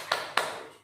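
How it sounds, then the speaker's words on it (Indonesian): A group claps hands twice in a quick, sharp pair of bursts, moderately close, with no talking. "tepuk tangan untuk kita semua"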